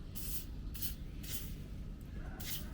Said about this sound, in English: I better spray a little bit of cooking oil. So I've got this canola spray just to give it a light oiling.